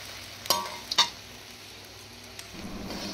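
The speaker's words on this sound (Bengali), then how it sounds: "ওদিকে আলু ভাজা বসিয়ে দিয়েছি" Potatoes fry in a pan with a soft, steady sizzle, punctuated by two sharp clinks of a utensil early on and a louder frying surge near the end.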